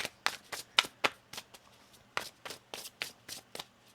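A tarot card deck is shuffled by hand in a quick series of about a dozen sharp, papery rustles in an even rhythm, close and clear with no talking.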